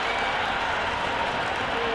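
A stadium crowd in the Cricket 26 video game cheers and applauds after a six, a broad, steady wash of clapping and crowd noise filling the short stretch.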